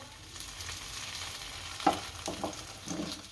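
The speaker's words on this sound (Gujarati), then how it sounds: "આને તળી નાખશું આપણે." An aloo matar paratha fries in oil in a pan, giving a low steady sizzle with several brief scrapes and taps of a spatula, heard up close and without voices.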